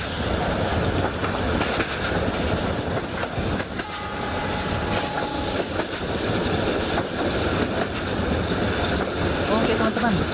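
A toy electric train keeps running in a steady clattering rumble across the whole stretch, close and fairly loud, while a voice talks over it at times.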